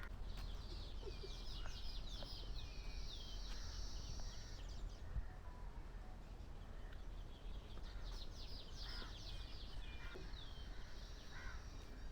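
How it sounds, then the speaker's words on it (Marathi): Sparrows chirp and twitter in scattered bursts over a faint, steady outdoor hiss on a farm, quiet and somewhat distant. "मस्त चिमण्या ओरडत आहेत सगळ्या"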